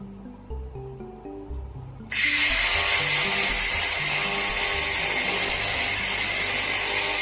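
A fiber laser cleaning machine removing rust switches on with a sudden loud, steady broadband hiss and whine. Quieter low tones come before it, and the sound then holds level and continuous to the end.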